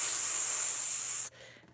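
A steady, bright hiss like spraying water, voiced by a person imitating a leak, holds for about a second and then cuts off abruptly.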